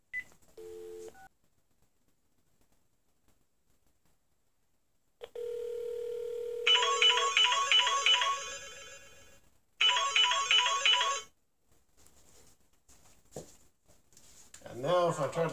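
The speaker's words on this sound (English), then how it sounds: "I will just make a call to prove to you that this phone is working just fine here." A phone call placed in a quiet room: a brief keypad tone, silence, then a dial tone and repeated ringback tones in two bursts, followed by faint rustling and a short warbling electronic tone.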